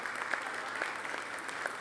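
Audience applause for Doctor Puello at his induction into the Academy of Sciences, a steady dense clapping that fills the whole stretch at even loudness, with a few sharper claps standing out.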